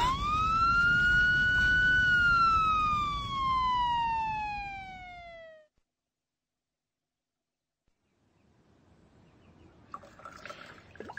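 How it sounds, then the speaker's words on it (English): In a radio mystery drama, a single loud siren wail rises and then slowly falls for several seconds before cutting off into silence, followed by faint, trickling rustles. "The ambulance is coming."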